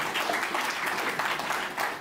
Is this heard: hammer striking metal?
no